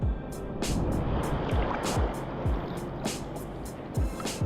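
Sea waves at a beach during bread-bait fishing, a continuous broadband wash of surf with repeated rushes of water and some wind, loud and close.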